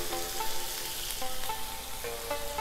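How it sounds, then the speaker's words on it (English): Shrimp frying in a pan for a honey garlic stir fry, a continuous bright sizzle with a few light stirring clinks, close and unaccompanied by speech. "So you're gonna cook these until they're pink. And just make sure you stir them occasionally because shrimp cooks really fast."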